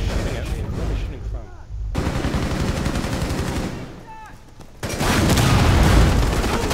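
Bursts of rapid gunfire from the video game Rainbow Six Siege crackle in repeated volleys, loud and close, with players chatting over the shooting.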